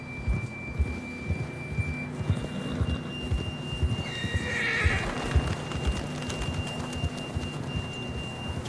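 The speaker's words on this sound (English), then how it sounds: "John was riding that horse when we left Blackwater" In Red Dead Redemption 2, a horse whinnies loudly around the middle while hooves clip-clop steadily underneath throughout, with a thin steady electronic tone running along and no speech.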